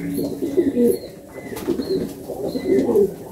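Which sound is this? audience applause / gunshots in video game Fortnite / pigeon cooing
pigeon cooing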